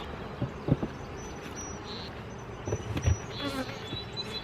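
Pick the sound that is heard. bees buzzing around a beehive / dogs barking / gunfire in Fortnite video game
bees buzzing around a beehive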